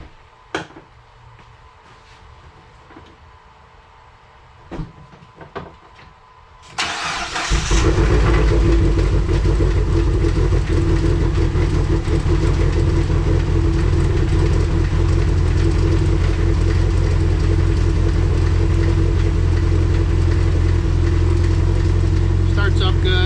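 Dodge SRT-4, reportedly fitted with cams, cranks and fires up after a few quiet clicks, then settles into a loud, close, steady idle with a rough lopey drone that runs on alone.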